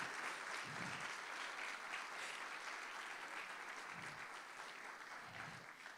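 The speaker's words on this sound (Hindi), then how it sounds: "आपकी तालियां बजाएंगे कि आपको प्ले कैसा लगा?" Audience at a church Sunday school Christmas play claps steadily and continuously for the children's performance, a dense, moderately loud applause that holds for several seconds, with faint low thumps underneath.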